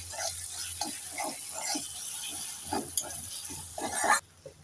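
Green chili, cumin and coriander pastes fry in a pan for a prawn and taro curry, a soft sizzle under irregular scraping strokes of a spatula, close by with no talk.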